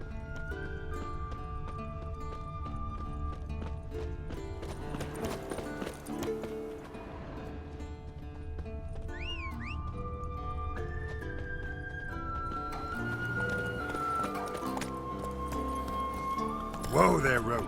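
Roach the horse in The Witcher 3 galloping with rhythmic clip-clop hooves and a whinny, set against an orchestral game score and brief voices.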